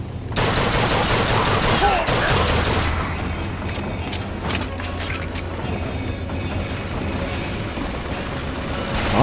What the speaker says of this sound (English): A lot of shotguns, a lot of machine guns.